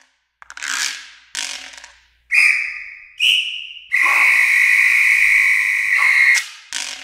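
A samba whistle blows several times: short bursts at first, then a long sustained trill, shrill, loud and close.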